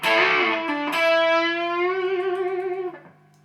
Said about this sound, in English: using a lot of distortion here